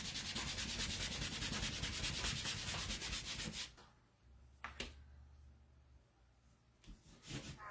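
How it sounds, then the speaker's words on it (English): Rapid rhythmic rubbing as a disinfectant Clorox wipe scrubs a sticky surface left by chalk transfers, loud and steady for several seconds, then dropping to quieter scattered swipes. "taking my Clorox wipe, wiping it off"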